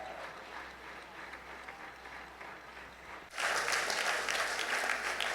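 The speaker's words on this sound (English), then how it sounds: "Go on applauding because he doesn't stand." Applause at the Biennale Arte 2024 awards ceremony in Venice starts as a soft background patter, then swells abruptly into loud, full clapping from a large audience.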